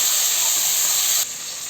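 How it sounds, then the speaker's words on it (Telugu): Chicken frying in hot oil until browned for biryani, a steady loud hiss and sizzle without pause that drops slightly in level near the end. "బాగా బ్రౌన్ కలర్ వచ్చేంత వరకు ఫ్రై చేసుకోవాలి."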